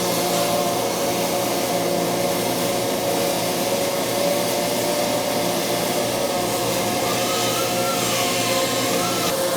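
A robotic welding cell runs steadily in a log splitter beam factory, giving a constant loud industrial hum and whine with a faint wavering tone near the end, and no talking.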